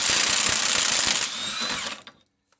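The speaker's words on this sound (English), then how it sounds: "We're just going to use a 32 and remove our axle nut" A power tool, likely an impact wrench with a 32 mm socket, runs loud and steady on a 1998 Nissan Sentra's passenger-side axle nut for about two seconds, its pitch shifting midway before cutting off into silence.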